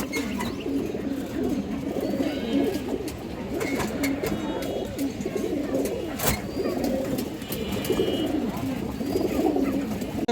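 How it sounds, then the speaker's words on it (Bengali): Pigeons coo steadily amid a busy, noisy background, with soft throaty calls repeating throughout and occasional clicks and rustles; large male pigeons at a pigeon sale. "খরা নর কবুতর এক হাত সাইজের কবুতর"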